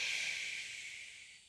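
A single long, soft exhalation during a guided meditation, an airy hiss that fades gradually over a second and a half, close and quiet with no speech.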